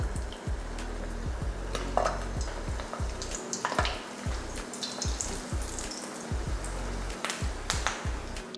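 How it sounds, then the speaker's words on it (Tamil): Meatballs deep-fry in hot oil, giving a constant bubbling sizzle with crackles and pops at irregular moments, heard close up with no talking. "இப்போ எண்ணெயும் காஞ்சிருச்சு, இப்போ பொறிச்சு எடுத்துடலாம்."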